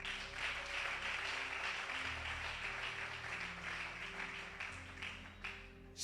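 A crowd applauding during a French-language religious gathering with a prophet, steady dense clapping held for several seconds at a fairly faint level, with a low tonal hum beneath it.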